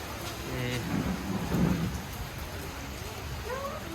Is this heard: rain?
yes